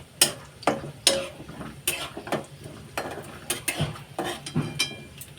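Peanuts stir-fried in oil in a pan for poha, heard as a series of close, sharp scraping and clinking strokes of a spatula against metal, repeating roughly twice a second over a faint sizzle.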